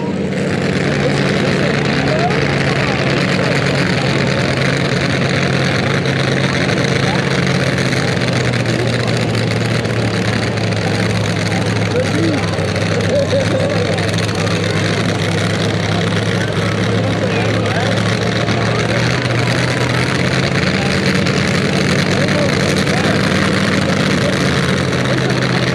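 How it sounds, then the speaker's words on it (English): Tractor pull engines roar continuously at a harvest festival, a loud dense rumble with a slowly shifting pitch that fills the whole stretch, with crowd and announcer voices partly buried beneath it. "If you like engines, if you like noise, if you like tractor pulling,"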